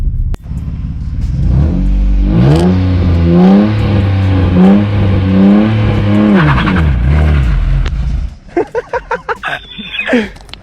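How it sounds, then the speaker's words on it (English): Close and very loud, a car revs hard through repeated rising and falling engine swells during a burnout. The tires screech beneath the revs, then the noise cuts to choppy idle bursts near the end. "I'm about to do a burnout"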